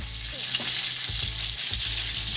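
Salmon fries in a pan with a steady, bright sizzle that carries through the whole stretch, broken by a few low knocks and scrapes of a utensil against the pan.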